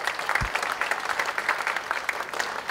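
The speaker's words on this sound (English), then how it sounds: "Will you please clap for my wife?" An audience at an Iowa Secretary of State campaign event claps steadily for a couple of seconds, a dense patter of many hands close by.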